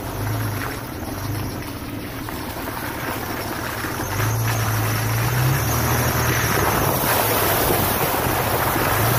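Off-road vehicle fording a river crossing, a low engine drone under rushing, splashing water and wind buffeting the microphone, growing louder and heavier about halfway through.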